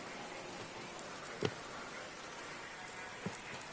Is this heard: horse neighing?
no